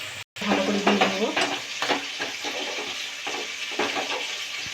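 A spoon stirs turmeric, coriander, cumin and chili powder with a little water in a bowl, making close, wet scraping and swishing with soft clinks in an irregular rhythm.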